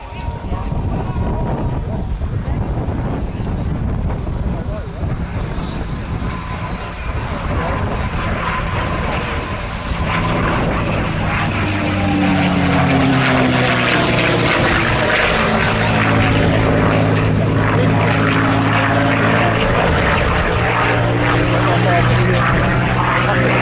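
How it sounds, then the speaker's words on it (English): A Piper Saratoga, a six-seat single-engine propeller plane, flies at an airshow on an old wartime airfield, its steady engine drone building louder with rising harmonic tones over wind noise. "an aircraft called Saratogas, which is a beautiful 6-seat, single-engine aircraft"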